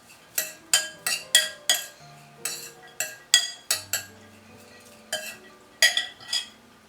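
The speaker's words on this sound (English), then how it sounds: "Mix everything together." A spoon clinks and scrapes against a bowl while a sandwich filling of vegetables, green chili, cilantro, black pepper and salt gets stirred, sharp close knocks coming in uneven bursts with brief pauses.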